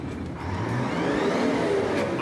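A tank rumbles along on a bumpy ride at a tank museum, heard from on board as a steady, loud engine drone with low rattling and a rising whine, no talk over it.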